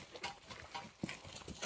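Hooves of serrano horses clop at a walk along a sierra path, soft irregular footfalls with one sharper knock midway.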